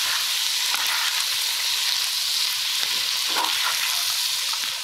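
Kosher or sea salt and dried sage are stirred together for gluten-free cornbread stuffing, giving a continuous bright hiss and faint scraping that runs steadily for several seconds with no talking.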